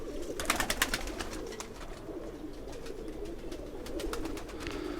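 Pigeons coo steadily, a prized female among a keeper's collection of fancy kabootar, their soft low calls overlapping throughout with brief higher chirps and rustles, no speech.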